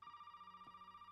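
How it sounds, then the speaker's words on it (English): In the game Resident Evil 7: Biohazard, a telephone rings with a steady, rapidly pulsing electronic trill, faint and unbroken over a low background hum. "There we go. Phone call."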